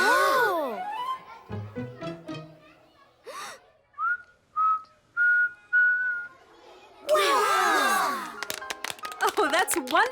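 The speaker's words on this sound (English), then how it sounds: "You learned to whistle." A young girl whistles a bright tune, with rising and falling notes and then several steady held tones, alone up close and mixed with a few breaths and gasps.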